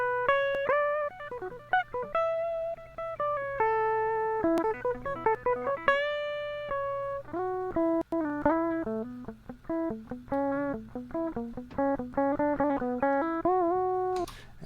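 Lead guitar solo on electric guitar with a clear, singing tone, playing a fast run of melodic notes with bends and short gaps for about fifteen seconds, with no talking.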